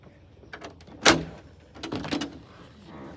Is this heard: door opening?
yes